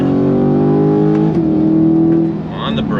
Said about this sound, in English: But that AWE exhaust, it's music to my freaking ears.